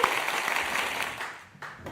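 A studio crowd applauds and cheers as a cigar company owner is brought up at a live show, a broad dense wash of clapping that starts loud and tapers off over two seconds.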